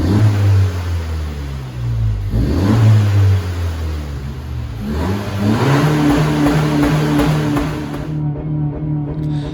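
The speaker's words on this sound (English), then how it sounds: "I prefer the sound of this car." A 2018 Honda Civic VTEC Turbo GT with CVT automatic revving close by, engine pitch climbing and falling in several rises over about ten seconds, loud and steady with no talk.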